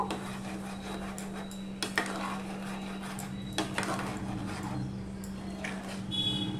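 A spoon stirs lentil dal with added salt and gathi kochu in a pot, giving close scraping and rubbing strokes at an uneven rhythm with occasional knocks against the metal.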